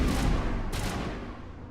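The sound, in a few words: grenade explosion in the video game Mass Effect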